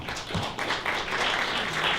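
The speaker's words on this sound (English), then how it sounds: "A round of applause for Ståle." Audience applause at an evening book launch, a dense wash of many hands clapping together, steady and fairly loud, filling the room throughout with no voices over it.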